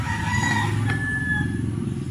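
Rooster crowing close by, one clear drawn-out call over a low bed of clucking and farmyard murmur.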